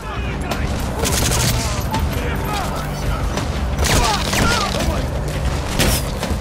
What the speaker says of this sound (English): Another nice shot there by Quiet